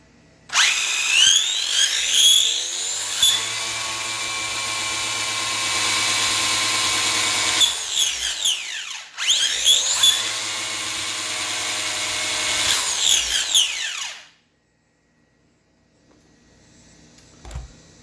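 Brushless electric motor of an MZ GS1004 4WD RC buggy revving hard in two long, loud, close bursts of high whine, each spinning up and winding down, followed by near silence and a faint tail.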